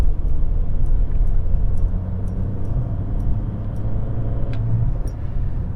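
A VW Golf 5 with a 1.6-litre 115 hp FSi engine revs up, a steady, loud low rumble of engine and road noise close by with faint clicks over it and no voices.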